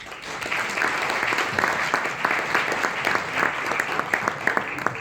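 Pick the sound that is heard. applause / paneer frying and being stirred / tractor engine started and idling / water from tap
applause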